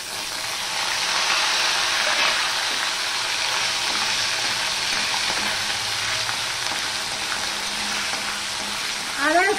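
Ginger and green chilies fry in hot oil over a low gas flame, giving a steady, even sizzle that runs throughout, with a brief clink near the end.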